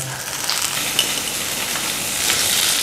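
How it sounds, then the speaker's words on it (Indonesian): Garlic, lemon and butter-sauce ingredients sautéing in a hot pan give a steady, loud, close sizzle that holds evenly throughout, with no voice over it. "jadi ditumis sebentar aja"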